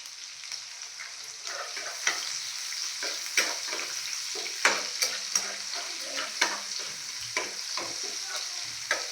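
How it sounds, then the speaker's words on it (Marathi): Garlic goes into chillies frying in hot oil in a pan, giving a steady sizzle broken by repeated scraping stirs, a rhythmic series of sharp strokes every second or so, close up and with no talking. "आता आपली मिरची चाली तेलामध्ये म्हणजे फ्राय झालेली आहे आणि आता आपण टाकणार आहे लसूण"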